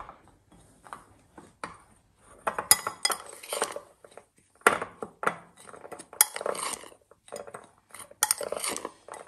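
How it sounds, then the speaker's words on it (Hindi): A spoon mixes a multani mitti face pack in a bowl, producing irregular bursts of scraping and clinking against the bowl, close and fairly loud, with short pauses between strokes. "इन्हें अब आप करेंगे अच्छे तरीके से मिक्स।"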